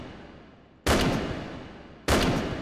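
SVT-40 semi-automatic rifle fired in VR game H3VR, two loud, sharp shots about a second apart, each with a long booming echo that trails off slowly.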